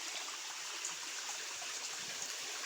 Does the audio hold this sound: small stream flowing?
yes